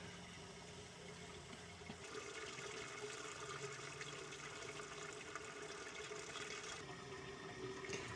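Water runs continuously into an empty bus water tank, a steady rushing fill that stays even and fairly faint throughout with no voices.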